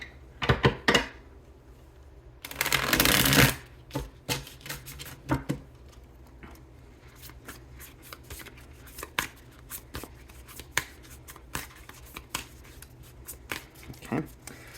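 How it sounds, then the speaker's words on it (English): Tarot cards riffled and shuffled close up in a quiet room, one dense burst of rapid card flutter in the middle, surrounded by scattered soft taps and clicks of cards being handled. "let's get at least one good shuffle out of this"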